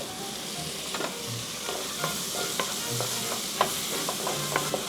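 Garlic stir-fries in a hot pan with a steady close sizzle, broken by repeated sharp clicks and scrapes of a utensil stirring, with no talking.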